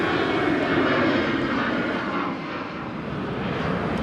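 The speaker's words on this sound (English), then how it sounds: "Airplane." An airplane passes over Jeju City, South Korea, its engine making a loud, continuous broadband roar that holds steady and eases only slightly across the stretch.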